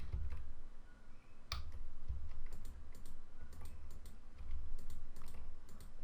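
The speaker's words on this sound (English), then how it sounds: "I'm just going to use my arrow keys to align them." Computer keyboard arrow keys are tapped repeatedly during a photo-editing session, a run of soft, close clicks at irregular intervals over a steady low room hum, with no talk.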